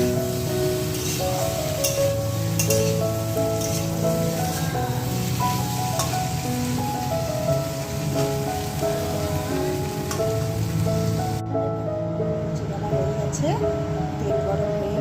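Luchi, small rounds of dough, frying in hot oil for a morning breakfast: a steady, dense sizzle and crackle fills the whole stretch under a tonal background and a voice.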